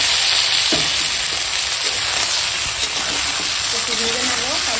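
Potato, tomato, onion and green chilli fry in fish oil with a steady, close, dense sizzle that runs unbroken with no voices over it.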